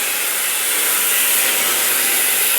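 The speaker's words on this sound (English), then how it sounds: "Don't bury your grinding wheel real deep when you're making the cut." Angle grinder cutting wheel slicing through the steel rocker panel of a Chevy or GMC truck, a loud, steady high-pitched hiss and whine that holds unbroken and up close throughout, with no voices.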